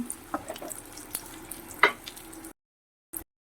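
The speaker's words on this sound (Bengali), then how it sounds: "এদিকে বেগুনগুলোকে লাল লাল করে ভেজে নিচ্ছি" Eggplant pieces frying in oil until reddish and crisp, a soft steady sizzle with a few stirring clicks and one sharper crackle, then abrupt silence.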